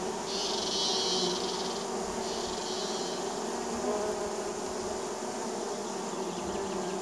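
Small native bees buzz steadily around a large pollinated tree in a forest, a faint continuous drone with a higher whine that swells for the first few seconds, under distant ambient insect noise.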